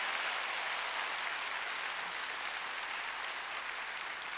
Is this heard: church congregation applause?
yes